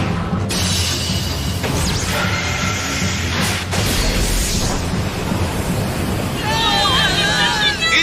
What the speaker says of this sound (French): Il y a 2 rafales de vent.